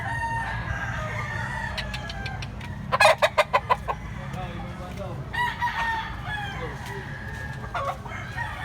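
A Kanawayon gamecock in Consolacion, Cebu, a large blue-legged rooster, gives a fast burst of staccato clucks mid-clip, with softer crowing and clucking calls before and after over steady low outdoor hum.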